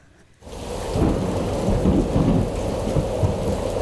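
Thunderstorm effect for a children's stage play: after a short quiet start, a deep thunder rumble rolls in with steady rain hiss, sustained and fairly loud to the end.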